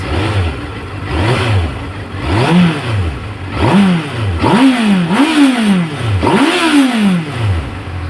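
A 2012 Honda CBF600 SA motorcycle engine revved repeatedly while standing, about seven rising-and-falling throttle blips in steady rhythm, loud and close with no talk.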